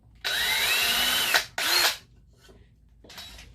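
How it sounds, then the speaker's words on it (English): A power drill whirs in two close bursts while drilling a pilot hole for a nail in a wooden beehive frame, the second shorter, then winds down; a third brief, quieter burst follows after a pause. "I like to go and start with a little pilot hole to get everything started."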